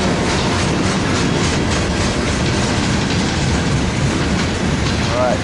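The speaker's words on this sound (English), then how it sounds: "it's a pretty short manifest" A short manifest freight train rolls past at Daggett, a steady, loud wash of rail and wheel noise with clickety-clack rhythm filling the whole stretch, close by and continuous.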